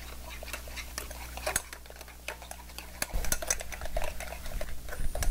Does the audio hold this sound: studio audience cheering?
no